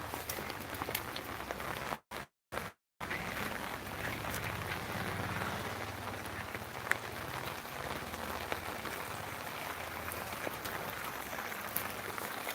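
Steady rain patters on a surface at a distance, a soft continuous hiss with scattered drops, briefly cutting out near the start.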